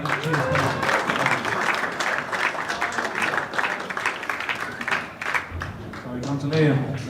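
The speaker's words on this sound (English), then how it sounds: "round of applause for Mark." Applause from a live audience at a darts tournament main event final, steady clapping throughout with some voices and chatter mixed in.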